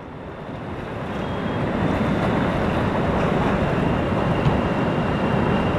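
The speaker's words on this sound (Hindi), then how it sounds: "क्या लहरें हैं।" Ganges river waves at Rishikesh after rain, a steady broad wash of moving water and surf lapping continuously close by, with wind buffeting the microphone throughout and no voices.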